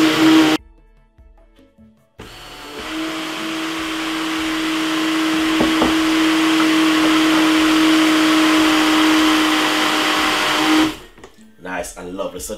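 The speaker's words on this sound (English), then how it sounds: "Get your blender or whatever you're gonna use or your smoothie blender and make sure it locks really good and blend this for about 7 to 8 minutes" A blender whirs through a Jamaican punch drink. It starts after a brief pause with a clatter, then holds a loud, steady high-pitched roar for about eight seconds before stopping, and handling noises follow.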